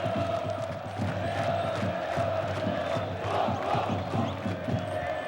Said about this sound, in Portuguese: Também solta a voz a torcida do Botafogo na ressacada